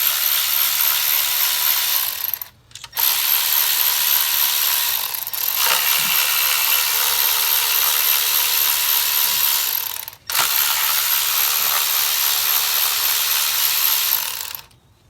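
A hand ratchet spins out 8mm bolts on a Ford Focus bracket, giving fast, continuous clicking that runs for long stretches with two brief pauses, loud and close.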